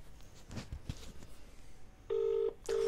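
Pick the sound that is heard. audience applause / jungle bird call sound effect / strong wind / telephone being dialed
telephone being dialed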